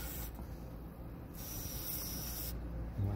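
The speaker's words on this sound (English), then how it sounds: "Spraying the grease on the arm" An aerosol can sprays grease onto the arm of a Blue Ox Avail towbar, inside its rubber boot, in a steady close hiss that runs for about a second, pauses, then resumes for a longer burst.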